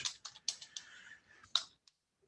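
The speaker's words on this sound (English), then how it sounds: "So you could start typing agent" Typing on a computer keyboard while filling in a real estate form, a quick burst of close, irregular key clicks with short pauses and a final isolated tap.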